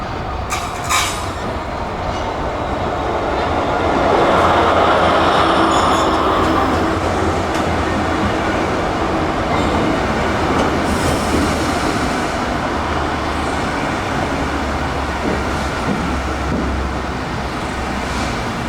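A special train rumbles loudly past Petteril Bridge, with heavy, sustained roaring and rolling wheel noise. Rhythmic clatter over the rail joints and occasional wheel squeals rise and persist across the whole pass.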